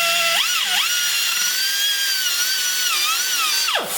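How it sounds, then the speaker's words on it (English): A 4-inch grinder works inside the loose outrigger pin hole of a Kubota L3400 backhoe, a loud continuous high-pitched whine with wavering pitch that holds steady, dips twice, then drops sharply as the cut ends. "all we have to do is grind the inside, clean it out real good"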